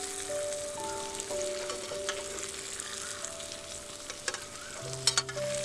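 Beans and fish stirred in a hot frying pan, a soft continuous sizzle with scraping stir strokes and a few sharper clinks near the end, close and fairly quiet, no talking.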